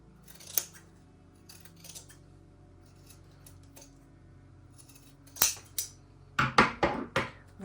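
Scissors trim excess seam allowances from jacket fabric: a few scattered quiet snips, then a quick run of sharp, close cuts near the end.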